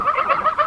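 Geese honking and calling in a farm yard, a close, continuous run of harsh nasal calls through the short stretch with no talking.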